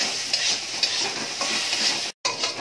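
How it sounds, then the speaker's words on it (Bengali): Diced potatoes seasoned with turmeric and salt frying in a pan, a steady close sizzle with brief stirring scrapes and a short gap near the end. "এই আলুটাও একইভাবে ভেজে নেব"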